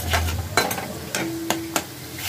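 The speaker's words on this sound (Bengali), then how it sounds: "কড়াইশুঁটি দিয়ে এবার ভালো করে এবার এটাকে" A spoon scrapes and knocks against a pan as green peas and spices are sautéed and stirred for radish ghonto, with a soft sizzle underneath and a few sharp clacks at irregular moments, close up.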